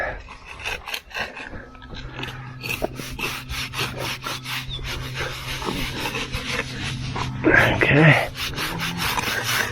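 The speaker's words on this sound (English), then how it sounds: "scraping some cream off of our board" Steady rough rubbing and scraping as joint cream is scraped off a board on a building job, close and continuous, with a brief spoken word partway through.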